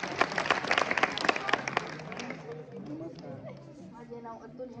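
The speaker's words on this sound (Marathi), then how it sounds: "टाळ्या." An audience claps at a village event, a burst of fairly close applause that swells then fades after a couple of seconds into murmuring and a voice speaking.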